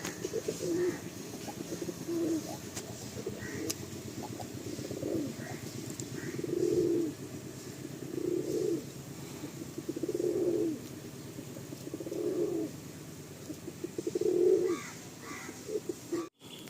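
Pigeons coo at a loft during a release, a run of soft, evenly spaced low coos heard fairly close over a quiet background, without talk.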